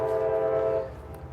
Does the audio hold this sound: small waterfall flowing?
no